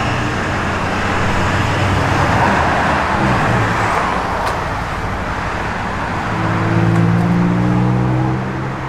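A 1964 Chevrolet Malibu SS convertible's engine, with Hooker Super Comp headers and a five-speed manual, rumbles steadily as it drives along, the roar swelling slightly near the end with road noise underneath.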